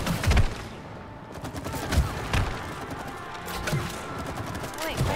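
Rapid bursts of gunfire from a co-op It Takes Two match as players shoot at a nest, the shots rattling in quick clusters over game music and effects while voices talk.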